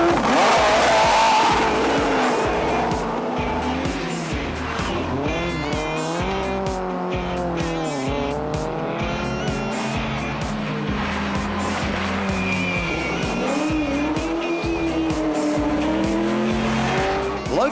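Classic competition cars race flat out through a tarmac rally stage in Adelaide, engines revving hard and rising and falling through gear changes with tire squeal, loud and close with no talk.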